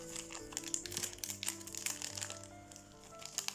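A foil wrapper on a Yu-Gi-Oh! OCG booster pack crinkles and crackles continuously as it is torn open, with dense bursts of close, fairly loud rustling throughout.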